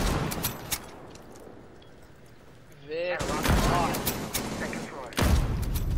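Gunfire in a video game: a burst of loud shots after a quieter stretch, then another sharp blast near the end, with players talking over it.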